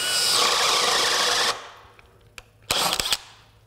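A DeWalt DCD999 FlexVolt Advantage cordless drill bores into material on a 20V 5.0 Ah battery, whining loudly for about a second and a half before winding down, followed by a short second burst near the end.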